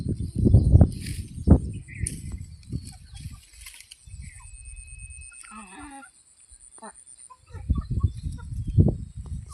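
Free-range desi chickens cluck and squawk in short bursts nearby on a farm, with a few louder calls and quieter pecking sounds between them.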